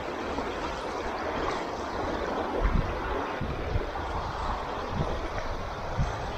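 River water flowing steadily during a crossing on foot, a continuous rushing wash with occasional splashy bursts nearby and no talking.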